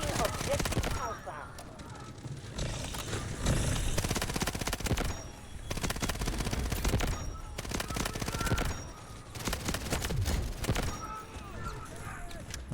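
MP7 submachine gun fire in Delta Force multiplayer: several sustained automatic bursts separated by short pauses, loud and close, with battle noise between them.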